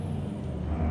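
A Ford F850 truck in American Truck Simulator sits under a loud, steady hiss of air brakes over a deep engine drone, a continuous close blast of pressurized air with a faint high whine above.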